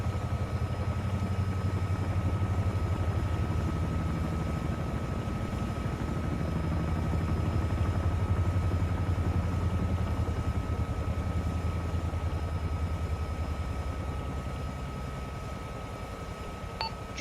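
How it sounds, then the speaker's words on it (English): A helicopter in the military video game Arma 3 thrums steadily at a distance, a low continuous rotor drone that stays faint throughout and fades slightly near the end. "Heli probably inbound to the FOB."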